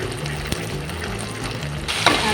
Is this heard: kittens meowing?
no